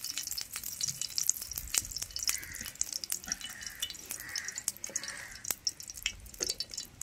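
Oil sizzles and crackles on a large hot dosa griddle heated for frying dried fish, a faint, continuous hiss broken by scattered sharp pops and ticks.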